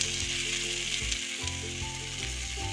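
Potatoes and cauliflower go into a pan of fried spice paste, raising a loud, continuous sizzle and bubbling heard up close, with no talking.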